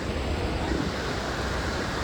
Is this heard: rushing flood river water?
yes